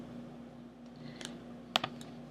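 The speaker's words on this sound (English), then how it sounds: "I just prefer to use my arrow keys." Arrow keys on a computer keyboard click a few times while editing in Adobe Illustrator, light taps scattered over a steady electrical hum, with one sharper double press standing out.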